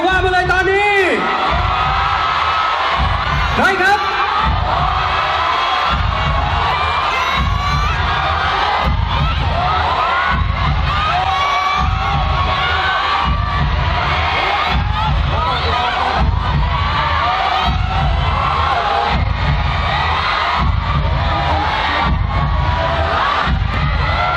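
Audience at the Miss Grand Thailand 2024 pageant cheering and shouting in a loud, dense roar, with rhythmic booming thumps pulsing underneath throughout.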